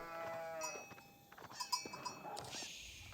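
Farm livestock bleating and lowing in an Age of Empires 4 match, sheep on the map, with short animal calls and a bell-like clank over game tones, fairly quiet.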